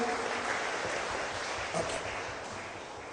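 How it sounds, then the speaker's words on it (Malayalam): Applause from a congregation at a Christian retreat in Muringoor, a dense, steady clatter of many hands that fills the whole stretch at an even level, with no voices over it. "കൈയടിച്ച് കർത്താവിന് നന്ദി പറയാം."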